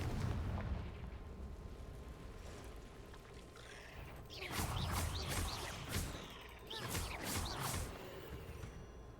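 Confringo fire spells explode during a spider fight in the video game Hogwarts Legacy: a low rumbling backdrop, then a cluster of loud, sharp blasts midway and another burst shortly after, with someone talking over parts of it.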